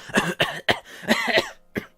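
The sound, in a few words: imitated coughing fit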